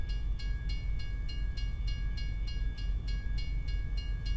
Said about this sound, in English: And there goes the train again.